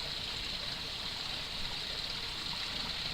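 A natural stream flowing on a day hike, a soft, constant hiss and burble of running water heard steadily throughout at low level.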